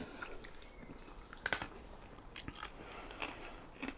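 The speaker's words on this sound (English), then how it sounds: "You can probably hear it crunching." Crispy roast belly pork crackling, cooked on a rotisserie, is crunched and chewed up close, with sharp crisp bites and softer chewing in between and no talking.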